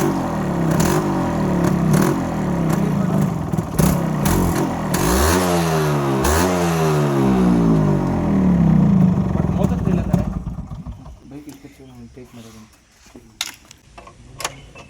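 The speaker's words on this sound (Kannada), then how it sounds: "ಸೊ ಗಾಯ್ಸ್ ಸೈಲೆನ್ಸರ್ ಫಿಟ್ ಮಾಡಿದ್ದಾರೆ, ಸೌಂಡ್ ಕೇಳಿಸ್ಕೊಳ್ಳಿ. ಕೀ ಆನ್ ಮಾಡಿ ಸ್ಟಾರ್ಟ್ ಮಾಡಿ ಫಸ್ಟು." A motorcycle fitted with a new silencer is started and revved, its engine note rising and falling in repeated close, loud sweeps before settling to a quieter idle, while people talk nearby.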